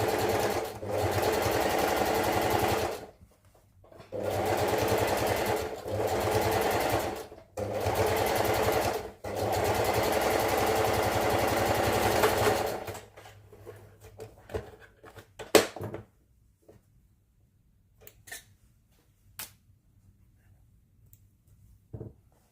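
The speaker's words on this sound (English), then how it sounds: "Make sure that you always back stitch when you start and back stitch when you get to the finish." A sewing machine stitches with back stitching at the start and finish, in four loud, steady runs broken by short pauses, then stops, followed by quieter clicks, handling and fabric rustles.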